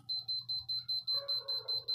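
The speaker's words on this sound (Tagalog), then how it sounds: "Nag-buzzer siya mga boss. Nag-warning." A high-pitched electronic warning buzzer on a Sugon 3005PM DC bench power supply beeps in a rapid, steady pulse, about five beeps per second, with a faint low hum beneath.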